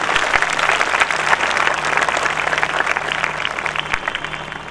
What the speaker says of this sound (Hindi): ताली बजा के परमेश्वर को धन्यवाद।